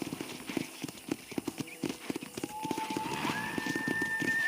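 Horse hooves clip-clop in a quick, regular rhythm, moderately close, at a ranch corral in the video game Red Dead Redemption, while a faint tonal whine rises in the background toward the end.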